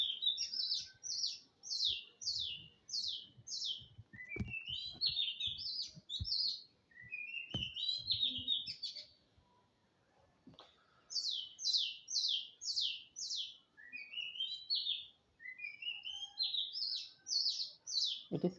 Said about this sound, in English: It is called chirping.